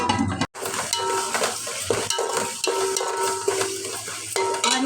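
Spoon stirring a bagara rice mixture of onions, tomatoes and oil in a cooking pot, a steady scraping and sizzling texture running continuously after a brief silent gap near the start, close and moderately loud.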